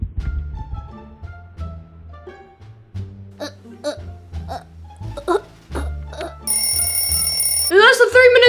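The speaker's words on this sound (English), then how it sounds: "And that's the 3 minute timer!" Three-minute timer alarm going off at the end of a plush toy game round, bursting in as a loud, bright electronic ringing over music and sound effects, with a voice coming in after.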